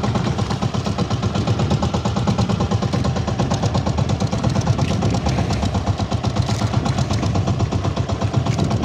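A motorcycle engine runs hard and loud with a dense, rapid, steady pulsing throb that holds at a constant pitch throughout, with no voices.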